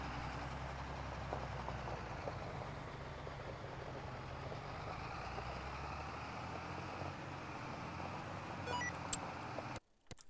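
A John Deere 8410 tractor rolls down a road at about 25 miles an hour, a steady droning engine and tire hum heard from the cab, ending in a sudden cut and a short clunk.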